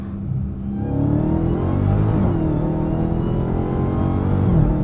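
A Dodge Challenger Hellcat Black Ghost's 807 hp engine revs hard under too much throttle, a loud, continuous rumbling roar from inside the car that swells steadily with no voices over it.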